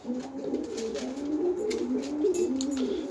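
A pigeon coos close by in a series of soft, rolling, low throaty calls that rise and fall in short repeated phrases over quiet background rustle.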